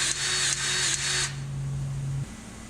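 A battery grease gun pumps grease into a trailer axle S-cam, whirring in three close, even pulses before stopping, followed by a lower motor hum that ends abruptly.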